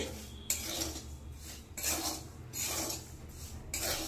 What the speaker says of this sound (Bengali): সুজিটাকে এবার ভাজতে থাকবো